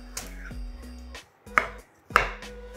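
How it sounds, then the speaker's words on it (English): Knife halving courgettes on a cutting board, three or four sharp, close chops spaced about half a second apart, each with a quick thud against the board, alone without talk. "All we're doing, we're just cutting them in half first."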